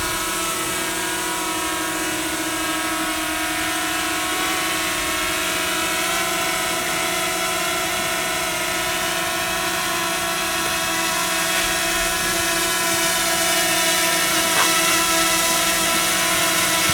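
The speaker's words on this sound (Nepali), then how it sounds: "अब हामीले अहिले ड्रोन डाउन गर्न लाग्यो" A steady, high-pitched mechanical buzz of a drone's rotors as it descends, close and continuous, with a faint whine layered on top and no voices.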